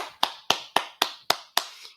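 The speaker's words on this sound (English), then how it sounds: "That little clap." Six crisp single hand claps land in an even rhythm roughly a quarter second apart. Each one is close, sharp and brief, with a short decay and near silence between them.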